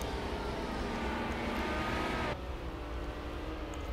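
Race cars speed along narrow streets with a loud continuous engine roar close by that drops suddenly partway through as a car passes, then carries on at a steady drone.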